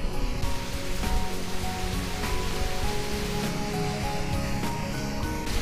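Gatte dumplings and water poured into a pan of gravy for shahi gatte, giving a steady, loud rushing splash and sizzle-like wash that continues without talk.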